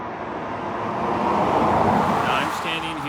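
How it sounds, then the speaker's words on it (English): A car on a road beside a river whooshes past at about 50 miles an hour, its roar swelling to a close peak and then fading, with steady traffic noise underneath. "cars are whizzing by at 50 miles an hour"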